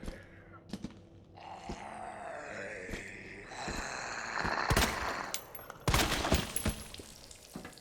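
Pistol shots in Resident Evil 2, several sharp separate gunshots and crashing impacts over a tense game soundscape, with the bursts growing louder toward the end.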